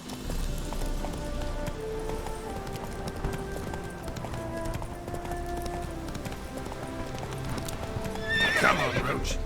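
Roach the horse gallops with steady clip-clop hoofbeats in The Witcher 3, continuous and fairly loud, ending with a sharp neigh near the close; no talk over it.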